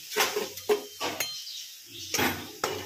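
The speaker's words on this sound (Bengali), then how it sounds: "চুলোর কালিয়া বানিয়ে দিচ্ছি।" Pots and pans clatter on a stove while catla fish kalia is cooked, with a few sharp metallic knocks and scrapes in separate close bursts, and no talking.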